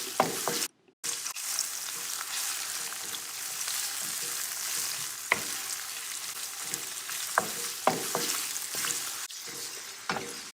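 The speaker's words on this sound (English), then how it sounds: "We will fry the onion on high heat until they are golden brown or soft." Onion frying in a pan over high heat, giving a steady close sizzle with a few brief stirring scrapes and one short gap near the start.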